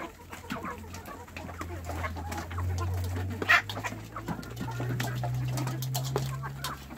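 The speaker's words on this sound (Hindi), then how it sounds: "प्योर देसी मुर्गियाँ रखी हुई है मैंने" Desi hens on a poultry farm cluck softly and repeatedly while eating, with scattered short calls and a low steady hum behind them.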